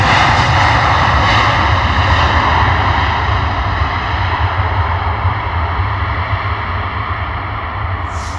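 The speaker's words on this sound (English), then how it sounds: "coming in from Tel Aviv, Boeing 737." Boeing 737 jet airliner on landing approach, a loud, steady engine roar and broad rumble holding close overhead and easing slightly as it passes, with no talk.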